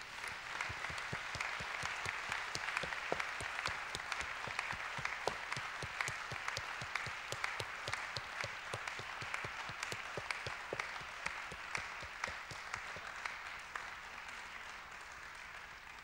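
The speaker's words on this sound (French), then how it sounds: "Je pense qu'on peut, applaudir." Sustained applause from a conference audience, a dense wash of many hands clapping at an even level throughout, heard from within the room.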